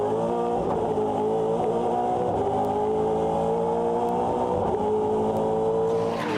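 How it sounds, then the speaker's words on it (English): A V8 Supercar engine, the Dick Johnson Racing power plant in a Ford Falcon, roars at Wakefield Park, revving hard and shifting repeatedly as it races, loud and sustained with the drone of other cars behind. "That's the sound of a Dick Johnson Racing power plant in the Andrew Thompson Falcon"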